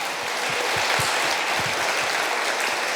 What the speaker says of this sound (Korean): 우리 하나님께 23년을 지켜주신 걸 감사하고 영광의 박수를 힘차게